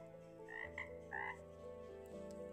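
Frogs croak from a pond in a few distinct, moderately close calls, one overlapping another, over a steady low hum with no voices.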